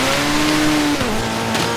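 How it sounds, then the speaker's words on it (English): Car engine roaring with steady drawn-out tire squeal as a vehicle holds a drift through a turn on a snowy mountain course in the Forza Horizon 3 racing game, loud and continuous without talk. "Hit that brake. Come on. Hold the drift."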